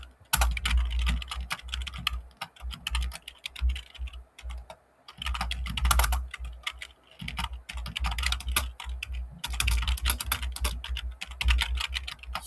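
Fingers type on a computer keyboard in rapid bursts of close clicking, with short pauses between runs and no talk over it.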